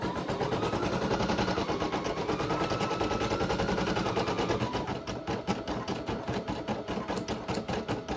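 Brother NS115 embroidery machine stitching a sweater, a steady fast mechanical rattle running close and continuous, with the rhythm turning more clattery and pulsing in the second half.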